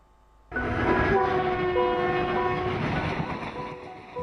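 An Indian Railways train rolls past loudly after a quiet start, its steady rumble and wheel clatter joined by a sustained horn blast, all close and continuous without talk.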